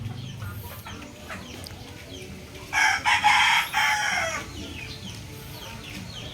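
A Sweater Dome gamefowl rooster from PMM Game Farm gives one loud, close crow lasting over a second, rising above steady farmyard background noise.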